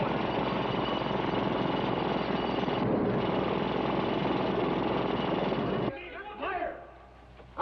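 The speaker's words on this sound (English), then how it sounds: "The jackhammer's busted through." A jackhammer drills through tunnel rock in a loud, continuous rapid pounding that stops abruptly near the end, after which voices are heard.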